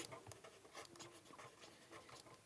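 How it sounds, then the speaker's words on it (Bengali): Pen or chalk writing out a number during a math lesson, a few quick scratchy strokes, soft and close, with no talk over it. "এই কথাটি লিখবো"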